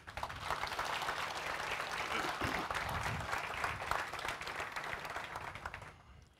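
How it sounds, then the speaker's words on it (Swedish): Warm audience applause at the Swedish Parasport Gala 2018, a dense, sustained roar of many hands clapping at a distance that fades out at the end. "Det är också värt en varm applåd."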